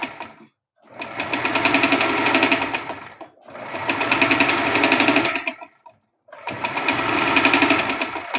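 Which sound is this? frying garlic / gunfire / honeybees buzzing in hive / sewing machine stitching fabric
sewing machine stitching fabric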